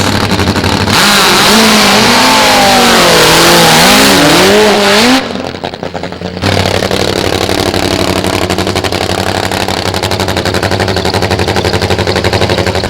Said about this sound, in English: That leaves Tommy to solo through, and safely qualified with an easy 6:78.